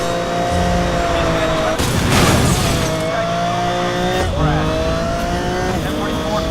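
Race cars in the Need for Speed Most Wanted (2012) video game rev and accelerate with a steady, loud engine drone, a burst of noise near the two-second mark, and someone talking over the engines throughout.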